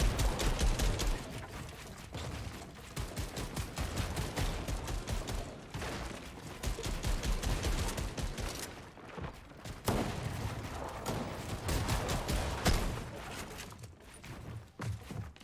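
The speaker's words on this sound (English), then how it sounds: "as Shadow1X tries to connect with some of these hard shots" Rapid gunfire from a competitive online shooter match, with dense bursts and rattling shots running almost continuously and fairly loud, broken by brief lulls.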